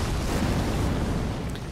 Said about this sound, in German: Die Explosion wird euch aber keinen Schaden machen.